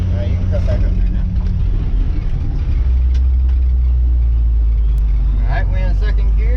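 An abandoned 1957 Chevy, neglected for five decades, drives in second gear with a steady low engine rumble up close, while people talk over it.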